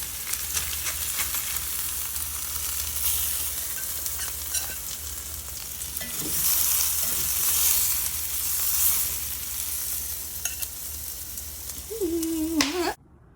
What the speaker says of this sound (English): Just gonna scramble up mine and Colin's after theirs is done.